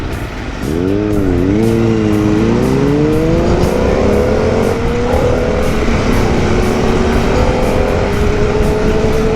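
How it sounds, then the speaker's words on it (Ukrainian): A Harley-Davidson Pan America adventure motorcycle engine revs hard and loud, the pitch climbing and wavering through several blips before settling into a steady high drone, close and with no talking. "Да, ну мотик обороти закидує дуже жваво."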